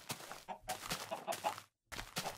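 Chicken clucking in the video game Minecraft, a few soft, close clucks in short bursts with a brief silent gap, no talk.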